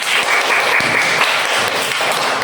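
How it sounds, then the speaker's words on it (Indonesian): Students in a classroom applaud Laila's group, a dense, even spatter of many hands clapping at close range for the full stretch. "tepuk tangan untuk kelompok Laila"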